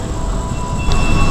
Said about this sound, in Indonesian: Ternyata barengan sama kedatangan Argo Muria dari arah Semarang Tawang.